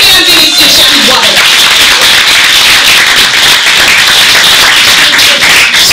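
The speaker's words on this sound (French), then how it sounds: "Applaudissez, mesdames et messieurs, Shirley Boiron." An audience at a fashion show runway event breaks into loud, sustained applause, dense close clapping filling the room without a break.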